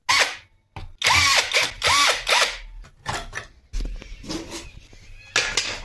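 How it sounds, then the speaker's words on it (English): An impact driver bores a hole through a skateboard deck in several loud, close bursts with rising and falling whine, separated by short pauses. "to drill the hole out I decided to use my impact driver with whatever this bit is called"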